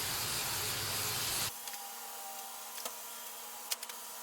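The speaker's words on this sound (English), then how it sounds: "spray the fabric a little bit" Spray adhesive hisses onto car headliner fabric in a steady, loud burst that stops abruptly, followed by quiet room tone with a few faint ticks.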